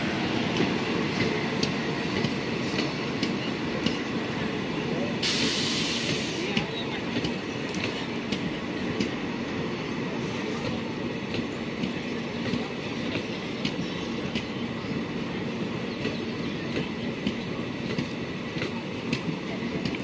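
A passenger train on the Bhavnagar–Jabalpur route rumbles steadily along with a continuous rolling roar and faint rhythmic clatter of wheels, loud and close throughout.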